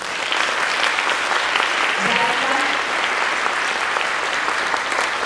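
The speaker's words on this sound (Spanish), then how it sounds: "quiero invitarla a que le demos un fuerte aplauso" A live audience at a women's panel discussion applauds steadily and loudly, a dense wash of clapping that holds for the whole span, with a brief voice surfacing partway through.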